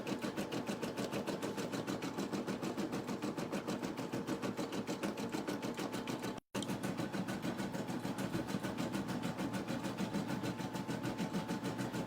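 A 4x4 embroidery machine stitching a St. Patrick's Day design runs with a fast, even, rhythmic chatter at a constant level, close by, broken only by a split-second dropout partway through.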